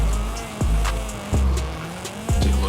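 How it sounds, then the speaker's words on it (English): Mazda Miata drifting in the racing game Forza Horizon 5, with repeated tire squeals over a steady engine drone, loud and close, in several bursts. "I'm drifting while barely looking."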